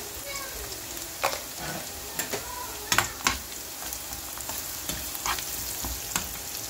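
Onions fry in a pan with coriander powder, turmeric and salt, giving a close, steady sizzle broken by sharp scraping taps as a spatula stirs them.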